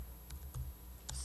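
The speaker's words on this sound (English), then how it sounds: "you can start typing" Typing on a computer keyboard during a JavaScript coding demo: a few quiet, separate key clicks over a low steady hum, with no voices.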